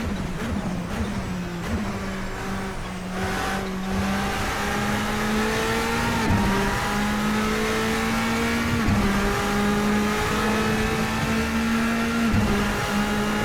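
Bentley Speed 8 race car engine in Assetto Corsa, a loud steady drone held under load with shifting pitch, brief dips at gear changes around six and nine seconds, continuous throughout with no talk.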